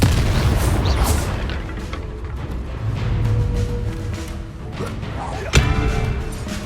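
Confringo spell blasts in Hogwarts Legacy boom and crash amid dense game effects, with a sharp explosive hit standing out late in the clip over continuous background action.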